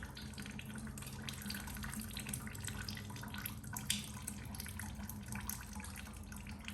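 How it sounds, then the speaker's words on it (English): Coolant drains from a disconnected coolant line on an Audi A3 2.0T TFSI, coming off near the intercooler. It makes a quiet, steady trickle and splash of liquid with a few drips, heard alone. "So this is the coolant line. All the coolant coming out"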